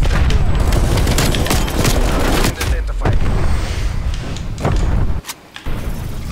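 Rapid submachine gun fire from a PPSh in a video game, dense and continuous bursts with booming impacts filling the scene, broken by a brief gap near the end.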